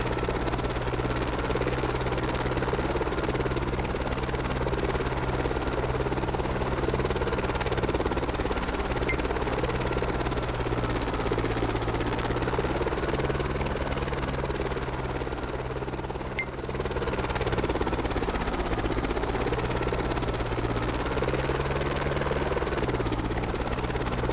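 A helicopter in the video game Machine World on iPad whirs with a constant, steady rotor drone and engine buzz, loud and unbroken throughout with no voices.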